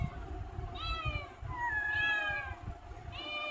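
Several house cats meow repeatedly at home, a series of drawn-out, rising and falling cries close by over a low background rumble, no talking.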